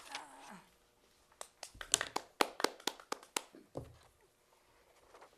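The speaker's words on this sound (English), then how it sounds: "we applaud all the time to keep excitement up" A small group at a Speakers And Leaders club meeting gives a brief, sparse burst of hand clapping, with a dozen or so sharp, close claps that quickly die away into quiet.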